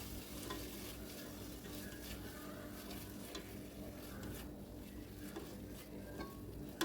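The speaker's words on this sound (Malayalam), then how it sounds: "തക്കാളി ആഡ് ചെയ്തിട്ട് തക്കാളി ഒന്ന് വെന്ത് വരുന്ന വരെ നന്നായി വഴറ്റിയെടുക്കണം." Tomatoes sautéing in a pan for prawn (chemmeen) biryani, with a steady close sizzle and frying hiss under repeated stirring scrapes and light clinks against the pan, continuous throughout and no talk.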